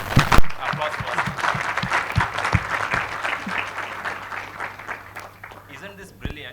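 An audience applauds the presenters at a conference session, a dense burst of clapping that swells at the start and tapers off toward the end.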